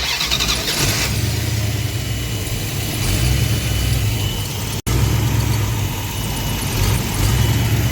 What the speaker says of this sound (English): You can see it's just surging and barely running.